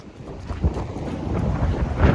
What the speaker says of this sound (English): It turned really windy on us.